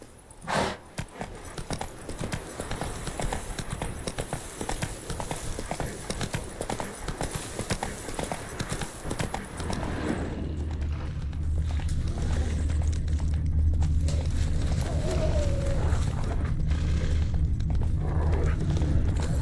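The horse Roach trots in The Witcher 3, with rhythmic clip-clop hoofbeats that start lighter and become a steadier, fuller gallop-like pounding with a low rumble in the second half.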